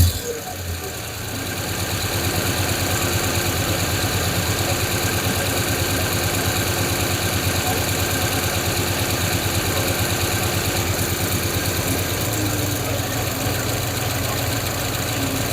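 A carbureted 5.7 Eagle Hemi V8, only bolted on with the curb idle set, idles steadily with a loud, lumpy, rhythmic rumble and a faint ticking, continuous throughout and heard alone.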